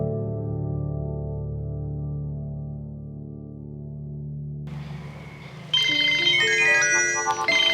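A phone ringtone plays for a brother's incoming call: a sustained melodic tune that shifts to a brighter, higher chiming pattern partway through, clear and alone with no voices.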